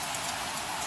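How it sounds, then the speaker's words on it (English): Steady rain falls outside a house in Puerto Rico, a dense, even hiss of drops on surfaces with no pauses or voices over the short stretch. "It's just raining, I love it."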